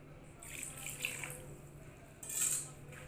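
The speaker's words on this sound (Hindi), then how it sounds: "ये थोड़ा थोड़ा पानी आप लोगों ने इसके अंदर ऐड करना है" Water is added in small amounts to chips dough, a soft trickling pour that comes and goes, with a brief stronger splash near the end, quiet and close, no speech.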